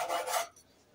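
A knife saws through smoked pork knuckle in a short, close rasping stroke that lasts under half a second and then fades into quiet.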